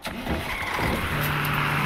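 Car engine in the Fortnite video game, a steady low motor drone running continuously from start to finish under in-game ambience, fairly loud and close.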